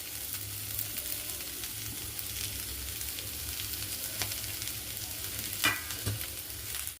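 Thinly sliced onions, three medium ones, fry in oil in a pan for a chutney powder, producing a steady close sizzle throughout, with a couple of brief stirring scrapes near the end.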